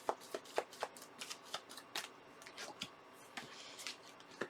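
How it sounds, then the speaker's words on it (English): Tarot cards riffle and flutter quickly during a shuffle, with a dense run of sharp papery flicks and slaps, close and fairly quiet, a few cards snapping loose and flying out. "Whoa, cards flying."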